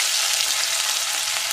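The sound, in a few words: chopped onions frying in oil with whole spices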